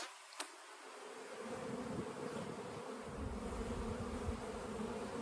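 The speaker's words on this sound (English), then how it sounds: "These are young bees coming out." Young honeybees emerging from the brood nest during a spring hive inspection hum in a dense, continuous buzz close by, after a brief quiet start and a single sharp click.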